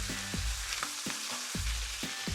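Onions and bacon brown in a hot pan, with a steady frying sizzle broken by rhythmic spoon scrapes and stirs about every half second, close and loud.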